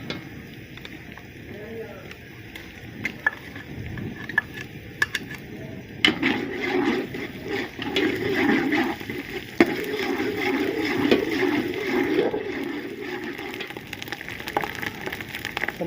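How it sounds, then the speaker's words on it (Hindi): Ginger and garlic paste frying with browned onions in a pot for beef pulao, a steady sizzle that grows louder midway, with a few clinks and low kitchen noise. "अदरक और लहसुन का पेस्ट शामिल करेंगे।"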